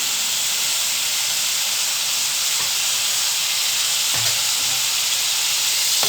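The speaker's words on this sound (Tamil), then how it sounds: "நல்லா மட்டன் வதங்கி வரட்டும்." Mutton sautéing in hot oil with chilli, coriander and mint leaves gives a steady, close hiss and sizzle that runs unbroken, with a couple of faint stirring knocks and no voices.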